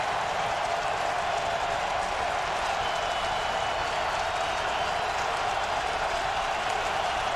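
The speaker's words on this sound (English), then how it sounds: "Listen to the crowd get in it." A football stadium crowd roars on third down during a 2007 Tennessee vs Arkansas game, a dense, unbroken wall of cheering and clapping that holds steady throughout.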